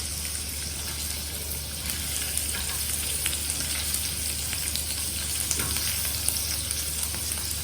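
Cubes of homemade paneer sauté in a hot pan with a steady, close sizzle and frying hiss throughout, small crackles and light scraping of stirring rising above the constant texture, no voices.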